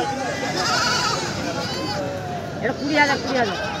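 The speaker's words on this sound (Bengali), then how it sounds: "দেখতেছো তোতাপুরি খাসি" At a livestock market, a castrated Totapuri goat gives short, wavering bleats, with other bleats close by under a busy crowd murmur and nearby talk.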